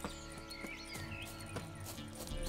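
Roach the horse moves through The Witcher 3 in a quick run of clip-clopping hoof thuds over low game music, faint and slightly distant, with no one talking.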